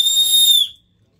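A loud whistle is blown in one sharp, piercing blast lasting just over half a second, then cuts off into silence.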